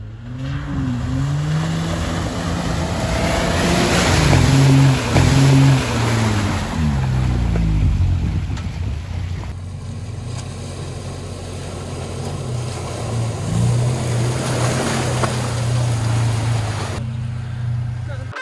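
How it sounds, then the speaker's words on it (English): A Toyota Tacoma four-wheels through a shallow river crossing at Caribou Creek, Colorado, its engine rumbling steadily under a continuous rush and splash of water, while people talk over it. "That's a little river crossing, it's pretty shallow today."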